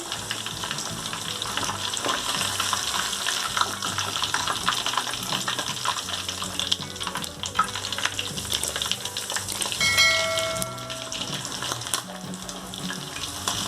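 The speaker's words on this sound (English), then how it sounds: "Remove it from the fire because it's been double fried." Spicy crispy chicken pieces double frying in hot oil, a loud continuous close-up sizzle and bubbling with occasional stirring clatter and a brief metallic ring near the end, no talk.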